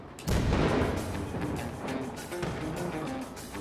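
A big old rusty cannon fires in a video game, opening with a heavy booming blast followed by a rumbling, noisy tail that stays loud and close for several seconds.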